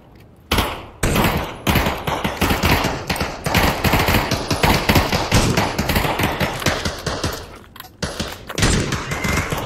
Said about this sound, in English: Single fire with SMG actually works pretty good at a distance.